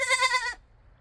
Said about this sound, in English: Spoiled goats.